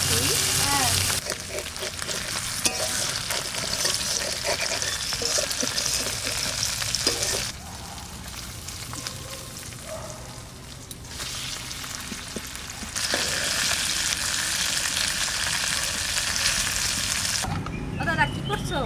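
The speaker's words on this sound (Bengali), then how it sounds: "অল্প অল্প করে ভেজে নেব।" Small morola fish frying in a pan, a steady crackling sizzle with stirring that runs almost the whole time and drops in level partway through, with scattered voices over it.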